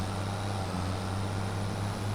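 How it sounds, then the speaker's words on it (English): A tractor engine in Farming Simulator 25 drones at a steady idle, a low constant hum with a broad hiss above it, unchanging and close, with no talk. "I'll get this tractor put away"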